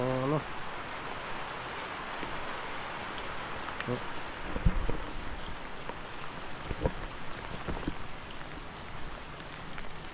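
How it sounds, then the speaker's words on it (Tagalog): Steady rain falls in a broad, even hiss during a wet, muddy outing, with a few sharp knocks and taps rising above it. "Maulan pa din"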